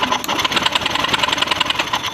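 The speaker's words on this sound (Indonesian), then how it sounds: "Kita coba starter setelah pelepasan busi." Electric starter of a Honda Scoopy fuel-injected scooter cranking with the spark plug removed, giving a steady, fast mechanical whirring with rapid rhythmic pulses that runs unbroken, close and fairly loud.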